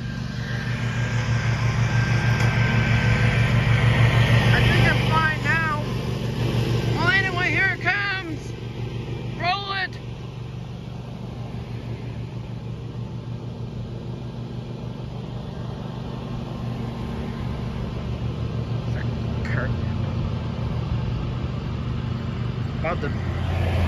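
Cars pass a railroad crossing with a steady, low engine rumble that swells and fades, while a person talks over the traffic noise.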